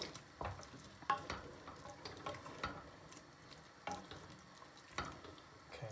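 Ingredients for a vegetarian dish are mixed in a pan with a spoon, giving soft scraping and stirring sounds with a faint sizzle, quiet and intermittent, and no one talking.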